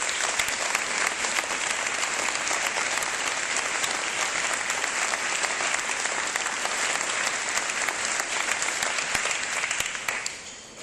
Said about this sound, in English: could we have all the administration please stand and give them a warm round of applause